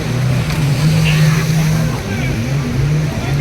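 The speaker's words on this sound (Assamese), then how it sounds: "এতিয়া জেট স্কি কৰিব গৈ আছোঁ" A jet ski engine hums steadily on the open sea near Pattaya's Coral Island, loud and close, with wind and spray around it.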